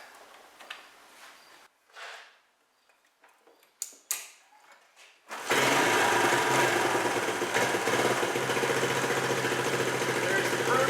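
A small carburetor engine idles steadily after warming up, starting about halfway through with a constant buzzing drone that stays loud to the end, preceded by scattered clicks and handling noises.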